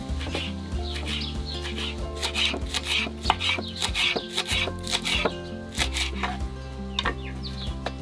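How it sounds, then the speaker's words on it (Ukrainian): A knife cuts horseradish leaves into thin long strips, giving quick repeated chopping taps against a board, all heard under a continuous backing of music. "Листя хрону ріжемо тонкими довгими смужками."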